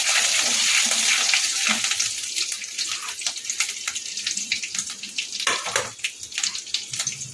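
Grated ginger drops into hot oil in a wok, a bright, crackling sizzle that starts strong and breaks into sputtering bursts as it settles.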